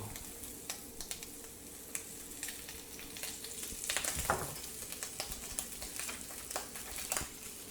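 Breakfast sausages frying in a thin layer of oil give a quiet, steady sizzle peppered with scattered spitting pops and splatters, with a brief stirring scrape near the middle and no talking.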